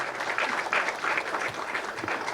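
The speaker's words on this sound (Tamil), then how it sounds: "ப்ளீஸ் ஒரு கைத்தட்டலுக்கு விடுங்களேன்" Audience applause at a film teaser launch event fills the room, a steady wash of many hands clapping at moderate loudness without a break.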